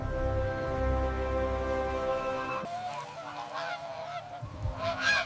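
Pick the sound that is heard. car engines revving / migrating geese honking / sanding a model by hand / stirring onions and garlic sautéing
migrating geese honking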